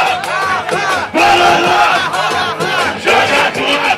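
A crowd at a Brazilian rap battle cheers, shouts and claps in a dense, loud wash of voices that swells and dips for about four seconds.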